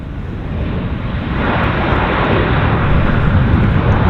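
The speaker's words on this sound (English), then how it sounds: "FedEx arrival, bringing in some packages." FedEx cargo plane landing at Vancouver airport, a loud, close, broadband engine roar that builds steadily and holds strong to the end.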